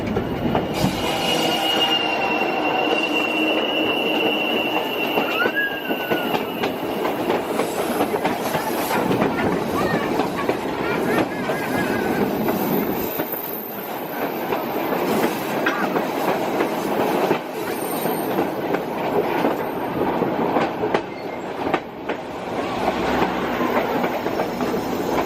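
White Pass and Yukon Railroad train rolling along curving mountain track, a loud continuous rumble of wheels and cars with high squealing from the wheels on the bends and intermittent clatter, sustained throughout.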